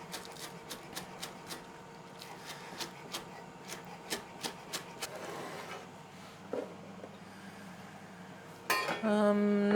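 Green onions are finely chopped with a knife on a cutting board, a steady run of quick, crisp taps that slows and fades out, followed by a louder clatter near the end.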